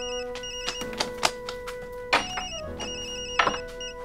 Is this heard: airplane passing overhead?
no